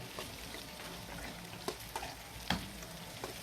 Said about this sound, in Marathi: आणि या कांदे शिमला मिरचींना फुल गॅसवरच आपल्याला छान असं परतून घ्यायचं आहे